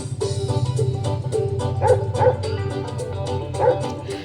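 Dog barks and yips from a cartoon dog in the children's Bingo song, short repeated woofs over a steady musical backing with no talking.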